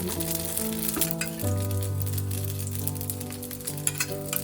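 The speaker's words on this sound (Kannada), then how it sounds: "ನಾವು ಎರಡೂ ಕಡೆ ಈ ಥರ ಎಣ್ಣೆನಲ್ಲಿ ಬೇಯಿಸ್ಕೋಬೇಕು" Paneer pockets cook in oil on a tawa, giving a steady close sizzle under a sustained background music tone, with a few faint clinks near the end.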